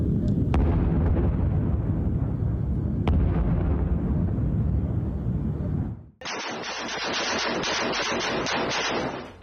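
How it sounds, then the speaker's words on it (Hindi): Explosions from phosphorus bombs dropped on southern Gaza at night: a sustained loud roar of blasts and rumbling, then a sudden cut to a harsher, crackling hiss of burning and bursts that holds steady to the end. "दक्षिणी गाजा में कई जगह फास्फोरस बम गिराने का आरोप"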